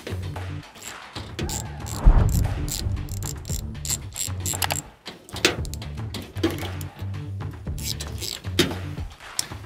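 Socket drive ratcheting on nuts behind the trunk lock emblem of a 1964 Cadillac Eldorado, with repeated clicking ratchet strokes and metallic clunks close by, uneven in rhythm.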